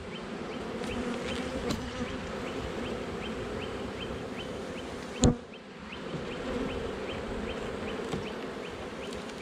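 Honeybees swarm around an open hive frame of honey and bee bread, a steady, moderately faint buzzing drone that continues throughout, with a single brief knock partway through.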